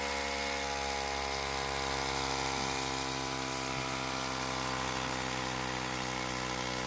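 A 3D printed pulse motor on soft feet runs on a table, giving a steady, dense electric buzz with a fixed hum and vibrating rattle, loud and unchanging throughout with no talk.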